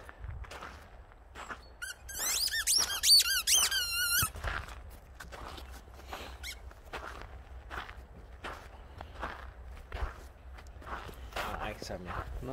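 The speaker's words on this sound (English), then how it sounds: "He does squeak, Sammy." Rapid high-pitched squeaks from a rubber squeaky ball toy in a short burst, with footsteps and light movement around it as a dog plays and a voice speaking intermittently.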